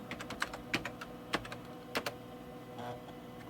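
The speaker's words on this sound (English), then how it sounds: "It's hard typing crooked here." Keys on a computer keyboard are tapped in quick, irregular bursts at fairly close range, quiet and crisp, with short pauses between clusters of keystrokes while setting up an IBM 5150 clone.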